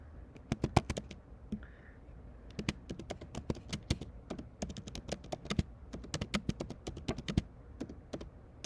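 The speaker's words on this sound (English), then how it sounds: "Actually, I'm going to type that." Rapid, uneven typing on a computer keyboard, keystrokes clattering in quick bursts close to the microphone, running steadily with no voices over it.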